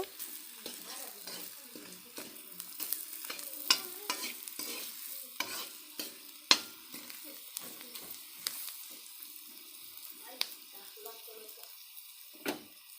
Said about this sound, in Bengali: অল্প কাশ্মীরি লঙ্কার গুঁড়ো দিয়ে দিব, 1 চামচ লবণও দিয়ে দিব। মশলাটা অল্প কষিয়ে নিব।